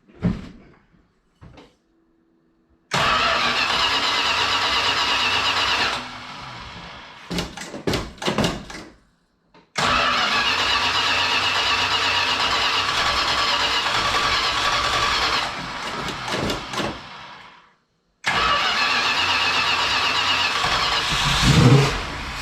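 A Mopar 383 four-barrel V8 cranks in three separate bursts, each several seconds of loud mechanical churning and running noise, with clicks, rattles and short quiet gaps between attempts.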